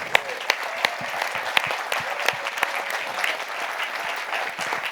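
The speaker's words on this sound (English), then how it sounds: "Let's give it a round of applause to all of our World War II veterans that we have with us." An audience applauds World War II veterans at a D-Day remembrance panel, sustained dense clapping with sharp individual claps standing out throughout.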